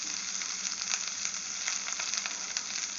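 Curry leaves sauté in a pan with asafoetida and coriander, producing an even, bright frying hiss with faint crackles and light stirring, steady and close, with no one speaking.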